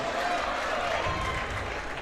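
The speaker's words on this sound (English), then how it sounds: "Looks like the crowd's going wild for every close shot." Crowd in a gym cheering and applauding during a unified high school basketball game: a dense, steady roar of clapping and shouting that fills the space without letup.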